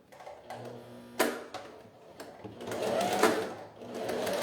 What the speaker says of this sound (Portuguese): Só que o outro lado eu vou costurar só a parte de dentro